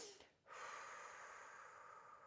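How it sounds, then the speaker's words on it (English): Long smooth breathwork exhale through the mouth, a soft, close airy rush that starts after a short pause and holds steady to the end. "allow the exhale to be longer than the inhale"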